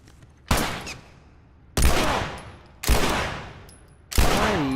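Four loud gunshots from The Last of Us Remastered ring out one at a time, each sharp crack trailing off into a long echoing decay, evenly spaced with short pauses.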